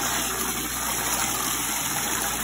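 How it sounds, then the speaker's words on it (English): Spin dryer pump running steadily, recirculating water through the tub: a continuous broadband rush of flowing water over a low motor hum, even and close throughout. "And it kind of recirculates the water through the tub as it runs"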